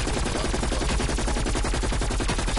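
Rapid continuous gunfire in a zombie video game, a dense loud burst of automatic shots filling the whole moment with no pauses.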